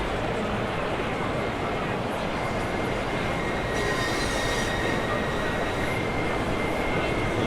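A Southeastern high-speed train in the Train Sim World 2 game runs at speed with a continuous, loud rumble of wheels on rail and a thin high-pitched squeal rising partway through.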